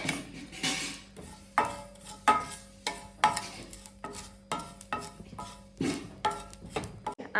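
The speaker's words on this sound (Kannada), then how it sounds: "1 ಚಮಚದಷ್ಟು ಓಂ ಕಾಳು. ಅದನ್ನು ಕೂಡ ಡ್ರೈ ರೋಸ್ಟ್ ಮಾಡಿದ್ರೆ ಸಾಕು." Carom seeds (ajwain) are dry roasted in a pan, with a spoon scraping and stirring in a steady rhythm of roughly a dozen close, crisp strokes and faint rattling of the seeds between them.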